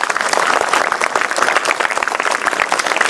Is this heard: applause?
yes